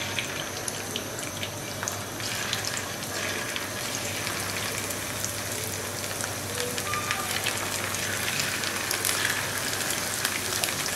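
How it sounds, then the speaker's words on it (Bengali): Chicken pieces coated in cornflour and egg white fry in hot oil, giving a steady, loud, continuous sizzle with no talking throughout. "তো আমার তেলটা গরম হয়ে গেছে, এবার আমি চিকেনের টুকরোগুলো তেলের মধ্যে ছেড়ে দিচ্ছি।"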